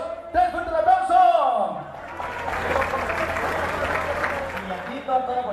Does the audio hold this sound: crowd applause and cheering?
yes